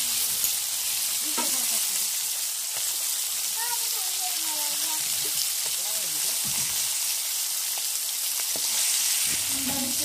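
Turmeric and masala spices sizzle steadily in a hot pan of Maharashtrian-style capsicum (bell pepper) sabzi, a continuous close frying hiss with faint voice-like sounds in the background.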